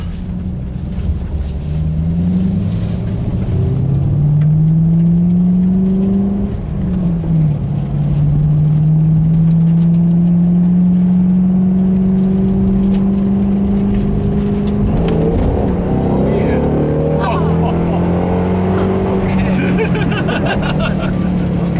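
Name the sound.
fast car accelerating at high speed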